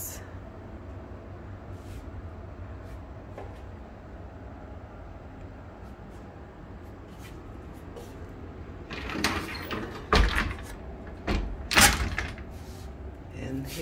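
A basement furnace room door opens and closes in a newly finished basement, heard as a few sharp knocks and rattling bangs near the end, close by over a steady low background hum.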